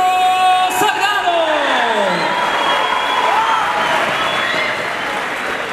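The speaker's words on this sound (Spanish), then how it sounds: "recibamos con un fuerte aplauso a José Ignacio Salgado" Crowd at a fight event applauding and cheering as a fighter is introduced, a broad sustained roar of clapping and whoops with the announcer's amplified voice fading at the start.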